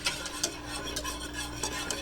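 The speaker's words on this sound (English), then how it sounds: "now we're going to whisk our sauce" Sauce whisked in a pan over heat, a brisk scraping stir with faint sizzling underneath, steady and close for a couple of seconds.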